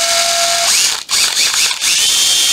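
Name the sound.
Makita 14.4V brushed drill driver running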